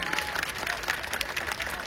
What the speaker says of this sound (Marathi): फक्त बायाने टाळ्या वाजवा, फक्त बाया वाजविल्या पाहिजे, बायांच्या टाळ्या पाहिजे मला